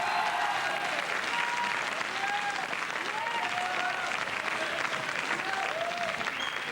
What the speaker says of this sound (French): Vous pouvez m'applaudir hein, pour m'encourager.